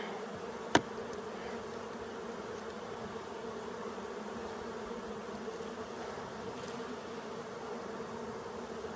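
Honeybees buzz continuously around a hive in Colorado in a dense, steady drone, with one sharp click early on and no voices.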